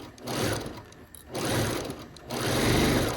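A sewing machine stitches a quilt block in three close bursts of rapid mechanical whirring, separated by brief pauses.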